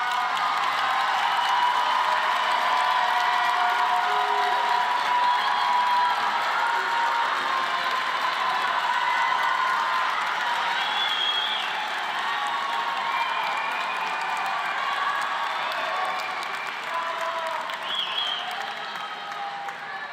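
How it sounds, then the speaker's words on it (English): A large audience applauds and cheers at a 2024 high school graduation ceremony, honoring Legacy Award students as they stand; sustained dense clapping with scattered whoops runs steadily throughout. "And you guys can clap for them."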